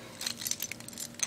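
Keys jangling in a hand to open the locking gas cap on a 1988 Chevrolet Nova hatchback, a short run of quiet, close metallic clinks and rattles.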